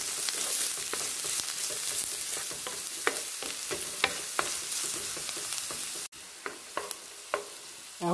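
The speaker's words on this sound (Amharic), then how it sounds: "ዘይቱ ላይ ደግሞ ሽንኩርት እንጨምራለን።" Onion being stirred and fried in oil for an Ethiopian breakfast dish, a continuous crackling sizzle punctuated by sharp utensil scrapes and taps against the pan, close and clear with no talking.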